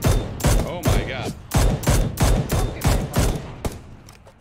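Rapid gunfire in the battle royale game PUBG, a series of about nine loud, evenly spaced shots with sharp attacks and short echoing tails.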